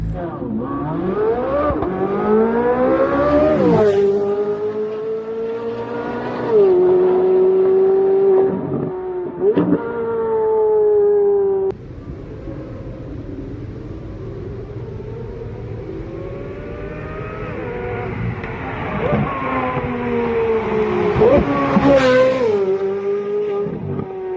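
A modified Corvette C8 Z06 with a flat-plane crank V8 revs repeatedly, its high-pitched scream rising and falling through long sweeping pulls, loud and close with no talking.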